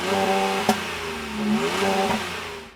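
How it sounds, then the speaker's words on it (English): A Tata Tiago JTP hot hatch gives off a throaty exhaust note, a steady engine drone that swells and eases as the revs shift, with a couple of sharp clicks and no talking over it. "They've added in a really nice throaty exhaust note"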